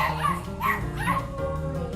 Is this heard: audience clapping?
no